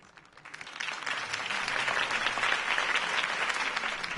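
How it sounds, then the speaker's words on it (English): A crowd applauds steadily, the clapping swelling after a quiet start and holding dense and loud throughout. "could have heard that applause"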